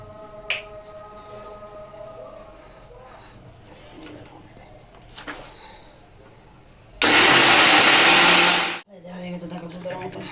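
An electric grinder whirs loudly for about two seconds as it grinds cardamom pods with a little water for payesh, a sudden burst that stops abruptly after quieter kitchen sounds and faint background voices.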